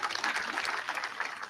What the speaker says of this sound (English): a round of applause to your Vice Chancellor,